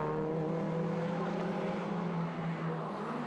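Renault Clio Cup race cars on the Zandvoort circuit, a steady loud engine roar that holds throughout and fades slightly at the end, as if the cars are passing close by.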